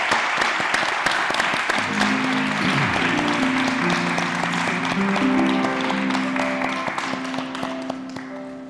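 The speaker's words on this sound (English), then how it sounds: "Now you can clap and cheer a little more." A church congregation at a Sunday service claps in a loud, dense burst while an organ or keyboard plays sustained chords underneath, and the applause gradually fades.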